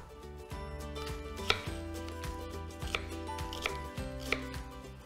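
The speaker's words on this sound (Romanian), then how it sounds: "Voi tăia acum și ceapa." Knife chopping an onion on a cutting board for a roasted tomato cream soup, a series of close, steady cuts with a few sharper louder chops, over a faint background hum.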